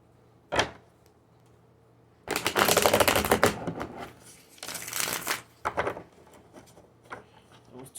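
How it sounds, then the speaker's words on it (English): A deck of playing cards is shuffled in close, loud bursts of riffling and flicking, with a long rustling run in the middle and shorter bursts after, separated by quiet pauses; no talking. "Let me reshuffle."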